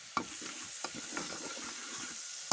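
Seasoned pork spine frying in a pan, giving a steady sizzle with a few sharp clicks of stirring or turning, close by and with no talking.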